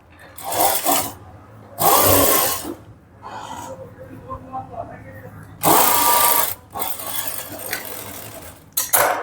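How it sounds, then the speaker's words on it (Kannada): A sewing machine runs in several loud bursts of steady whirring while stitching matched piping onto a blouse, with quiet gaps between runs and a person talking in between. "ಪೈಪಿಂಗ್ ಎರಡನ್ನು ಮ್ಯಾಚ್ ಮಾಡಿಕೊಂಡು ಸ್ಟಿಚ್ ಹಾಕಿ."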